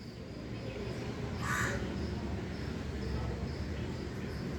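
A crow caws once, sharp and fairly close, during a morning squabble with a cat over milk outdoors, over a steady background hum.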